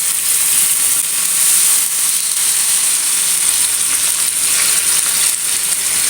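Pieces of chicken fry in hot oil, giving a loud, even, close-up sizzle that hisses continuously without pause or voices.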